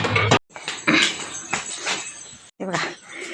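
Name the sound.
puppies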